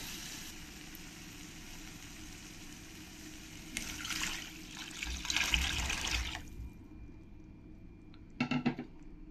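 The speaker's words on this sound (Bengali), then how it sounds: "এবার আমি জল দিয়ে দেবো" Water is poured into fried-down masala in a pan while cooking koi fish, giving a soft splashing hiss and sizzle that swells mid-way, followed by a brief clatter of utensils, all fairly quiet.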